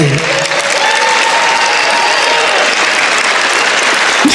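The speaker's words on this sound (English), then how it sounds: "they're clapping for that" A late-night television studio audience bursts into loud, steady applause, a thick continuous roar of clapping that holds at full strength throughout, with a faint voice underneath near the start.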